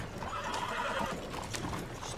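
A horse-drawn carriage in the video game Red Dead Redemption 2 rolls past, hooves clip-clopping continuously under a busy town bustle, fairly faint and somewhat distant.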